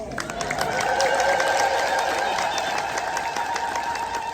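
A church congregation at a feast for Saint Michael the Archangel and Saint Lalibela fills the space with sustained, high trilling ululation from many voices at once, loud and continuous throughout.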